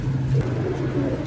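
A Teddy Qasoori golden pigeon gives a brief, low, muffled coo against a steady, noisy background.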